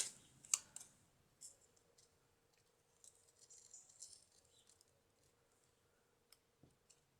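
Scissors snip and rustle through paper close up, with sparse clicks and soft scraping in a quiet room.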